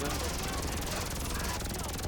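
A helicopter in the video game GTA gives a loud, steady rotor chop throughout, with voices talking over it.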